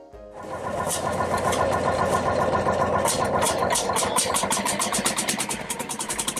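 Tractor engine running at an annual tractor meet at an open-air museum, a loud continuous rumbling idle that starts up and holds steady close by, with a rhythmic pulsing chug.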